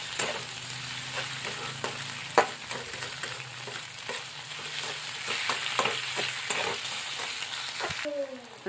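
Onions and green chilies fry in hot oil in a home kitchen, a steady crackling sizzle broken by sharp clicks of a spoon stirring the pan, close and continuous.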